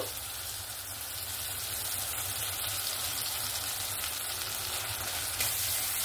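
Steady sizzling and crackling of ginger garlic paste frying with spices in hot oil, continuous and close, with no talking.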